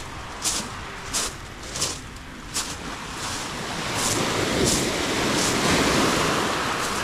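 Sea waves wash onto the shore by an embankment in Yalta, Crimea, in December, a broad hiss under steady wind, the surf swelling louder in the second half, with a few faint taps early on.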